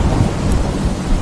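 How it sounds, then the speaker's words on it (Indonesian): Steady heavy rain falls under a deep, rumbling roll of thunder that fills the whole short stretch. It is loud and continuous, with no voices. "Geledek mulu kok tumben ya?"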